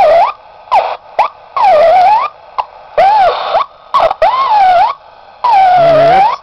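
A warbling, siren-like electronic whine from a running SEC exciter high-voltage device comes in repeated short bursts and longer sweeps, loud and close, with brief silences between them.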